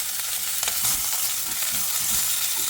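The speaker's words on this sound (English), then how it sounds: "we're just gonna start searing off these pieces of oxtail" Pieces of oxtail sear in hot chili oil, giving a steady, close-up hiss and sizzle of frying with faint crackles and pops throughout.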